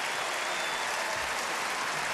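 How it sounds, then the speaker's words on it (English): Sustained applause from a comedy festival audience at the Melbourne Comedy Festival Allstar Supershow, a dense, steady wash of clapping filling the hall with no voices on top. "Please continue your applause for all the amazing acts you've seen tonight."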